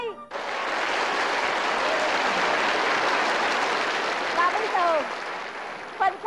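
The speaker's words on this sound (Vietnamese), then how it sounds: "Xin quý vị một tràng vỗ tay." A TV game show studio audience breaks into applause, a dense sustained clapping that starts abruptly and carries on steadily. Faint tones and a voice surface briefly near the end.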